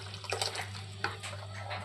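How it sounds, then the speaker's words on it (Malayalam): Water is poured into a Kerala-style seer fish curry base for a brief moment, a faint liquid splashing and trickling close by over a low steady hum, with no talking. "വെള്ളം ഒഴിച്ചിട്ട് കറിയുടെ അളവ് പാകമാക്കി എടുക്കാം."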